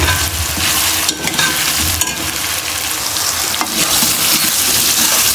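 Tomato and potato are stirred into roasted masala and fry in a pan for keema aloo gobhi, giving loud, continuous sizzling with scraping stirs and no voices.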